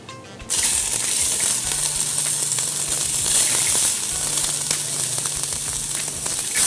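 Olive oil sizzles in a frying pan as cooking starts for an orange glaze salmon dish, a loud, steady hiss that starts abruptly and holds for several seconds, with a faint low hum underneath.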